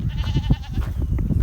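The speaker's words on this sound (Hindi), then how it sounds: "बकरियों की आवाज़ें आप सुन ही रहे होंगे।" Goats bleat in a village as livestock are brought home in the evening, several overlapping calls that are loud and close over a busy, rumbling outdoor background.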